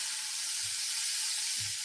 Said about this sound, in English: It's a long sizzle.